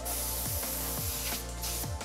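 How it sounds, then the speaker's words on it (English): A compressed air nozzle blows dust off custom LED tail lights after cutting, giving a loud, close, continuous spray hiss with a few short bursts across a couple of seconds, no voices. "just go ahead and get compressed air"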